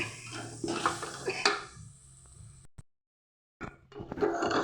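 A potato and green pea curry with tomato, stirred in a pan: close scraping and clinking of a spoon against the metal, a brief silent gap, then the stirring starts again.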